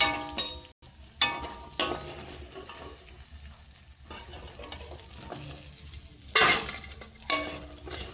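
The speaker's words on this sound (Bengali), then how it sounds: "বাকিগুলো ভেজে নেব।" Fritters (bora) frying in oil in a kadai, a close steady sizzle broken by several loud bursts of spatula scraping and metal clatter against the pan, with no talking.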